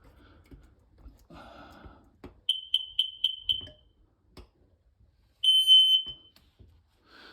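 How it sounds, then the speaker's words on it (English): Sharp, high electronic beeps from a smoke alarm: a rapid run of five, then a longer sustained beep, amid quiet clicks and rustling. "Smoke alarm. I did test that recently."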